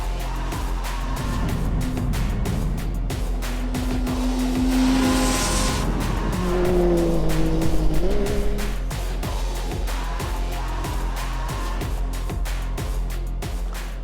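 A 6-speed Yamaha YXZ 1000R SS side-by-side with auto-shift races in sport shift mode on a short dirt course. The engine drones loud and close, with its pitch climbing and dropping through gear changes, over a constant low rumble.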